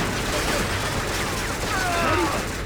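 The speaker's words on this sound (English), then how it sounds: "We also start off with the M60, which is an absolute monster" An M60 machine gun fires in the Vietnam War game ShellShock Nam '67, a continuous rattle of overlapping shots at moderate loudness heard amid a busy battle din.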